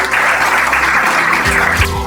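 Audience applause at a school assembly at Collège Saint Damien, a dense, steady wash of clapping that carries on for a couple of seconds as a low murmur rises beneath it toward the end.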